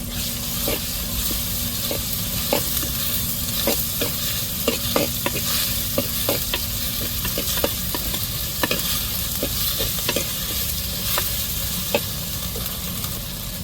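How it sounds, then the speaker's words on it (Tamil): Ginger and garlic stir-fried in a pan for a home-cooked Sunday meal, a constant crackling sizzle with the repeated scrape and tap of a spatula stirring throughout. "இப்போ இஞ்சி பூண்டை நல்லா வதக்கி விடுவோம்"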